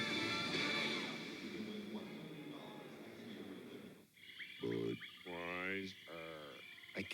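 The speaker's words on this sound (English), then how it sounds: "I can't believe they went with the frogs." Frogs croaking in a 1990s beer commercial aired during a Knicks–Lakers basketball broadcast: after a noisy stretch, a few loud, close, drawn-out croaks follow one another, alone with no talk over them.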